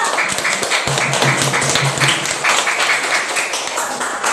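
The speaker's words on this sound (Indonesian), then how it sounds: "tepuk tangan untuk kelompok 2" Schoolchildren in a classroom applaud group 2 with brisk, continuous clapping from many hands, close and lively throughout, with a faint tonal murmur underneath but no clear speech.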